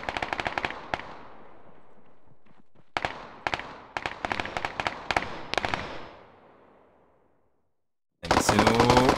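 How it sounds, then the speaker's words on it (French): Rocket launchers fire in a video game capture-the-flag match: sharp, loud bursts of rapid shots with ringing decays, clustered in volleys, then a fading tail and near silence before a dense burst returns. "Tir de roquette."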